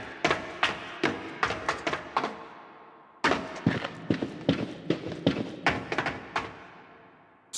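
Video game footsteps strike metal grate and concrete in a quick, even rhythm, each step a sharp clanking thud, with a short pause midway before the run resumes; close and crisp, no talking.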